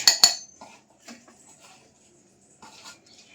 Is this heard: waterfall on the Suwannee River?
no